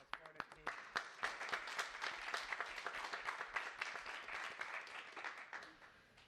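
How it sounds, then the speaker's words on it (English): A small group at a NASA press briefing claps for the Ingenuity helicopter team, with distinct individual claps, fairly thin and uneven, that fade toward the end. "join me in applause for the team"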